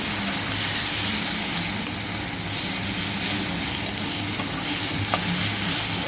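Ground cumin, coriander and garam masala being stir-fried in oil in a pan, a steady close sizzle with soft scraping, continuous and even throughout without any voices.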